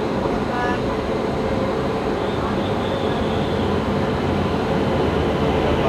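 A train hauled by a Tughlakabad-shed WAP 7 electric locomotive, the Darbhanga Kolkata Mithila Express, arriving at Asansol station, a loud steady rumble and rolling roar throughout.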